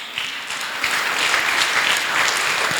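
A church congregation at a Sunday service breaks into steady, sustained applause that fills the room, with no speech over it.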